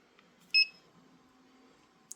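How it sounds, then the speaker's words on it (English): An FMU-25 airsoft stim shot device gives a single short, clear electronic beep in a quiet room, followed by a faint tick near the end. "If you press down the plunger onto somebody, you're going to get a beep"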